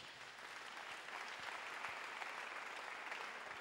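A church congregation claps for Jesus during a sermon, a dense, sustained wash of applause from many hands that holds steady throughout.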